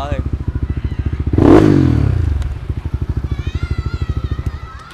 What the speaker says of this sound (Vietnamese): Lực xe lực lắm, nó nghe tiếng giống như là mấy con R3 vậy đó